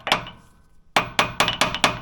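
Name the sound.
hammer tapping on a Jeep JK pitman arm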